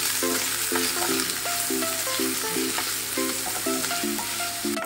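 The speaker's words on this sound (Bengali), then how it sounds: "দিয়ে পেঁয়াজটাকে তোমার গোল্ডেন ব্রাউন করে ফ্রাই করব।" Chopped onions fry toward golden brown in hot oil, a constant close sizzle with a rhythmic series of spatula knocks and scrapes against the pan.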